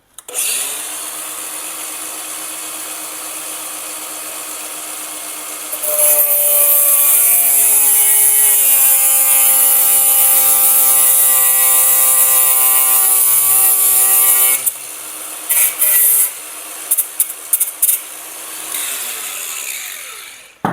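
A power cutting tool slices a small piece off a motorcycle bolt, a loud continuous high-pitched whine that holds for several seconds before cutting off into brief bursts and a fading spin-down.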